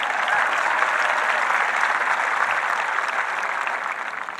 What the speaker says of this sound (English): You can clap for that, guys.